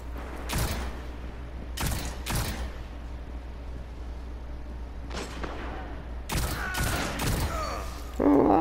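A poorly performing weapon in Destiny fires in separate bursts, a few sharp shots early, one mid-clip and a tight cluster near the end, all loud against steady game background noise with no talk.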